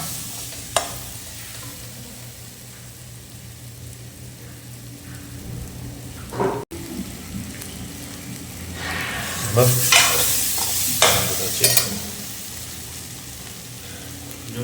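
Chicken pieces sizzling in a hot pan for a chicken gravy, with a steady frying hiss broken by scraping stir strokes that grow louder and busier toward the end.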